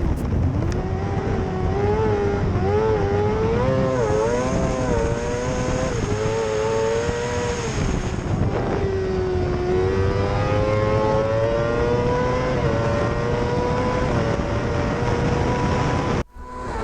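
Several British F2 racing sidecars roar side by side down the start-finish straight at Croft, their high-revving engines loud and close, pitches rising and falling with gear changes in a continuous, layered howl.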